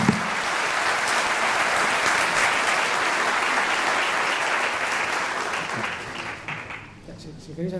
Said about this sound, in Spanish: yo creo que los compañeros de mesa se han ganado un aplauso.